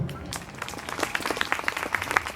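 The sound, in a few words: audience applause at falconry show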